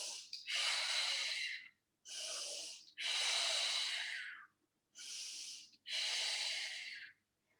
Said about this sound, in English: Take a couple of deep breaths to stretch that more.